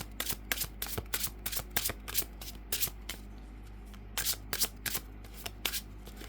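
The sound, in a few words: shuffling tarot cards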